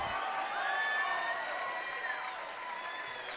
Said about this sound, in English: as you hear the crowd clapping for Hurst as he comes off the floor.